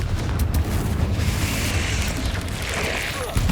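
A Confringo blast spell in Hogwarts Legacy, a loud, rumbling fiery explosion that swells and fades over a few seconds amid battle noise, with a voice talking.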